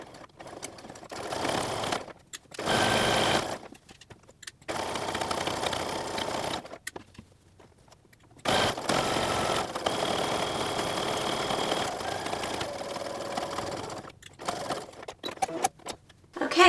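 Sewing machine stitching a drawstring casing into a hoodie, with close, rapid mechanical whirring in several bursts of varying length separated by short pauses, and one long steady run in the middle.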